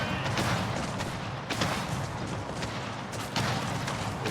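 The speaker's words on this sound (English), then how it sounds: "Swivel cannons kind of suck against the demo ship, but it works." Swivel cannons in a strategy video game fire at a demolition ship, with dense overlapping booms and crackling bursts spiking around 1.5 and 3.3 seconds over a continuous loud battle din.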